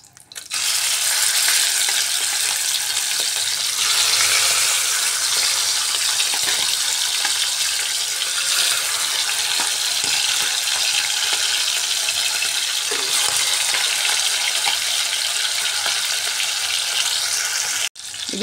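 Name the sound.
chicken pieces frying in oil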